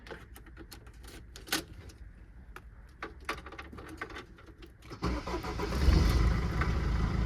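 A van's engine cranks and catches, following a stretch of scattered clicks and small knocks; the motor then settles into a steady, low idle that stays loud to the end.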